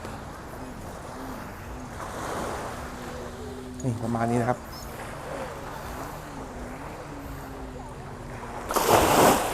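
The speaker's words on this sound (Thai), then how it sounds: "มาชมคลื่นชมทะเลนะครับ" Ocean waves roll in at Bang Saray beach, giving a continuous wash of surf mixed with wind buffeting the microphone. Someone speaks briefly midway, and a louder rush of wind or breaking water comes near the end.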